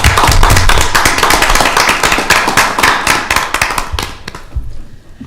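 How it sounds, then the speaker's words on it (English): A room at a county public hearing breaks into applause for the county engineering team, loud close claps from many hands that thin out and fade over several seconds. "Could we just give a round of applause to your team?"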